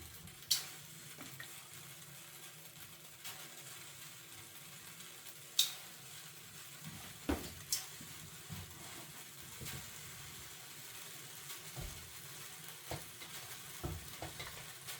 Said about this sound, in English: I sauté the seafood in a separate pan to enhance the flavor before adding it